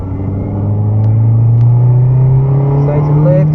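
A race car on the Broadford circuit holds a loud, steady engine drone with a rising pitch as it accelerates through the gears, close and continuous, while a coach talks over it.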